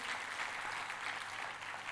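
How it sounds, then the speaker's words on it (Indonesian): Church congregation applauding during a sermon, a continuous, fairly faint wash of many hands clapping together throughout. "Kita kasih tepuk tangannya yang paling meriah buat Tuhan kita."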